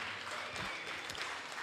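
Audience applause at a GAMA Grappling match between jiu-jitsu teams, a steady, dense wash of clapping that fills the whole short stretch at moderate loudness.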